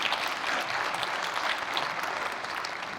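A crowd at a chamber of commerce celebration applauds a lit bridge, steady loud clapping from many hands sustained throughout without talk.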